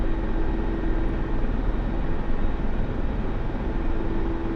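Steady broadband rotor and engine drone from a Hind helicopter in a flight simulator game, loud and constant throughout with a faint steady tone, no talk over it.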